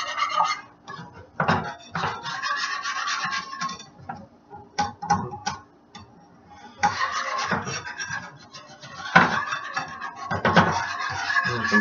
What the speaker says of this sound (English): now keep whisking this